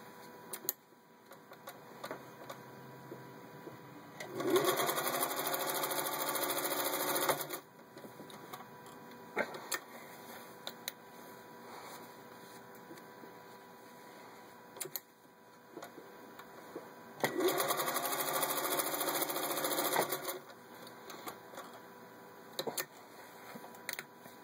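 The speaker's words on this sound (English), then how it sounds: "just to show you how well the machine stitches" A vintage 1949 Singer 201-1 sewing machine stitching through six layers of denim, two separate bursts of steady rapid whirring, each about three seconds long, with quieter mechanical ticks and clicks between them.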